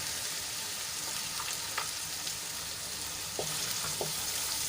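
Chopped onion sizzling in ginger, garlic and chili paste, a steady broadband fry hiss with a few soft stirring clicks and pops, close and constant with no voices.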